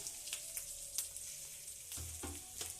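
Masala-stuffed green chillies, filled with cumin powder and salt, sizzle and fry steadily in a pan, with a few louder crackles and stirring scrapes near the end; no voices.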